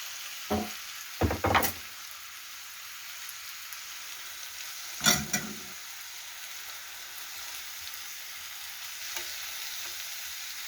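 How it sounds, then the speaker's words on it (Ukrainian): Meat stewing under a lid in a pan after being fried, giving a soft, steady sizzle with a few brief clinks and stirring knocks near the start and middle. "І буду його зараз нібито як тушити під кришечкою."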